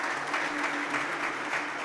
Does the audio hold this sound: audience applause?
yes